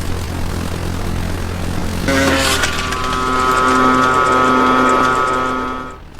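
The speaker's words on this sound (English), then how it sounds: "You might want to switch off lights, obviously, and just launch the drone." A propeller-driven Orlan drone launches in the video game ARMA 3. A steady hum runs first, then at about two seconds a loud, rising propeller-engine drone starts and holds near and strong to the end.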